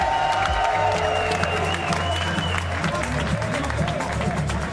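Large arena crowd at a PFL Finals 2024 MMA championship roars with sustained applause and cheering for the winning fighter, loud and continuous throughout, with an announcer's voice and music layered over the noise.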